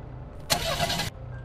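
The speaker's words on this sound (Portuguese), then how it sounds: "O carro não tá dando partida, cara." In the video game GTA 5, a car engine fails to start: a single short starter-motor crank of about half a second, fairly close, then the engine cuts out and goes quiet.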